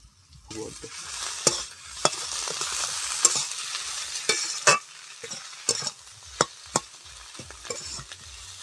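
Potatoes with green chili, coriander leaves and pre-fried shrimp sizzling in a pan while being stirred, soft frying hiss punctuated by repeated sharp spatula scrapes and taps against the pan, close by and without talk.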